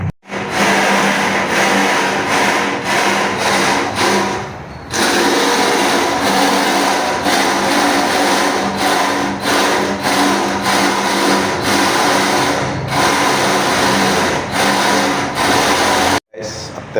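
A power drill boring holes in an electrical box, running loud and close in a long continuous whine, pausing briefly partway through before starting again and cutting off near the end.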